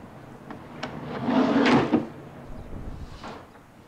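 A suitcase-style case is opened at close range, with a fumbling latch click, then a louder rustling swing of the lid and a softer knock a moment later; no speech.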